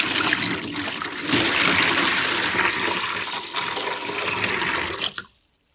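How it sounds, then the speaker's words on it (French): Milk pours steadily into a can, a continuous gushing, splashing rush lasting about five seconds before cutting off abruptly. "Le lait versé dans le bidon."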